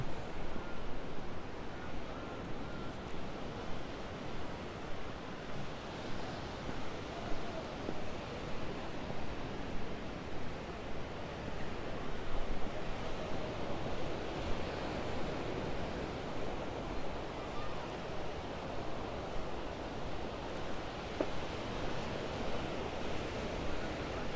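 Small ocean waves wash steadily onto the shore at El Medano beach in Tenerife, a continuous soft roar of surf with light wind and no voices.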